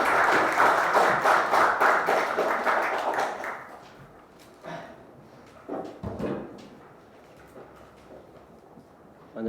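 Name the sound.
audience applause welcoming speaker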